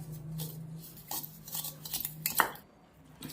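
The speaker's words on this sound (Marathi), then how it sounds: "आपण आता त्यामध्ये खवा आहे तो पण फेटून घेऊया।" Khoa being beaten with butter and sugar in a bowl, with irregular scraping, clinking strokes of a utensil against the bowl, close and fairly quiet.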